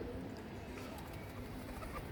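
A male pigeon, part of a new collection, coos softly and steadily at low volume through a continuous murmur of background noise.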